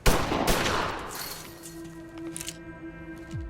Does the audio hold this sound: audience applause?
no